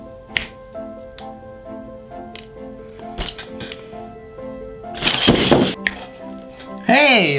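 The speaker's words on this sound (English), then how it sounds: "I'm gonna snap my fingers." A single finger snap rings out near a LEGO Jack Stone build, a sharp close click among scattered taps and small clicks, with brief noisy bursts and a voice toward the end.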